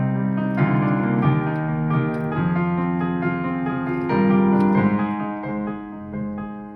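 Melodic piano phrase for a melodic house track, a flowing line of sustained chords and single notes, clear and close, played alone without voices.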